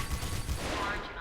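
Gunfire in the video game Mirror's Edge as server machines are shot, a dense continuous burst of loud shots with a voice faintly mixed in.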